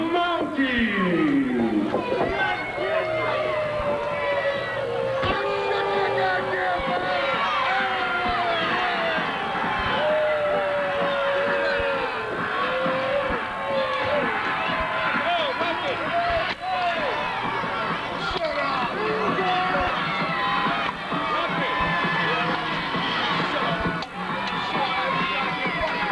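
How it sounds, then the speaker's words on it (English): Loud crowd cheering and shouting at an Empire Pro Wrestling event at Thompson Speedway in New England, with dense whoops and yells and a voice announcing over the steady roar. "The crowd is going crazy here, Empire Pro Wrestling."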